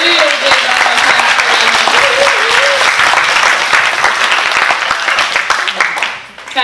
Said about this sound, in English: Real big round of applause.